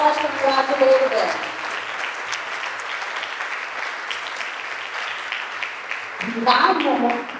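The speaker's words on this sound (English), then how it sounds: "With a big round of applause," An audience at a student council investiture ceremony claps to congratulate the newly named student leaders, a steady wash of applause running the whole way through, with voices rising briefly at the start and again near the end.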